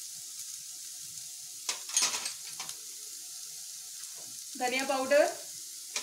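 Onion, garlic, ginger and turmeric frying in a pan give a steady soft sizzle, with brief stirring scrapes and a short spoken phrase partway through.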